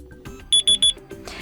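A Doogee S Punk phone plays its alarm clock melody as three quick, bright beeps in a row over a background of other sounds.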